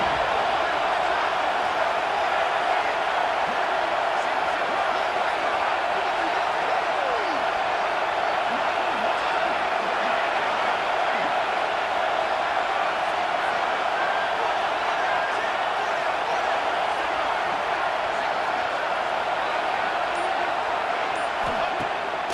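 A stadium crowd in a Penn State college football video game roars in a steady, dense wash of cheering and noise that holds constant for over twenty seconds without letting up.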